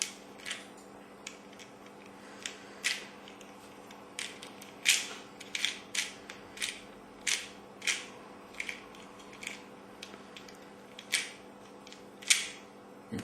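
A mosaic twisty puzzle cube with a ball core and spacers is turned deliberately misaligned, producing a series of sharp, close clicking and crunching snaps spaced roughly every half second over quiet room tone.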